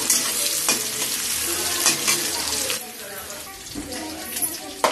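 Finely chopped onion with green chilli frying on low heat in a pan, a close sizzle broken by repeated scraping stir strokes, quieter in the latter half.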